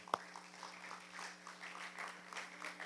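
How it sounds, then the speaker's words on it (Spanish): An audience claps in sustained applause for a group at a Spanish-language Christian talk on worldviews, opening with one sharp clap and then a steady, moderately loud patter for about three seconds. "Un aplauso nuevamente"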